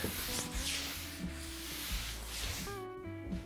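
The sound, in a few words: sanding a solid jarrah wood bench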